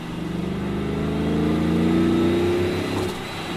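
A supercharged Chevrolet Silverado RST pickup's engine revs up and accelerates with a rising, steady drone, loud and close, then eases off slightly near the end.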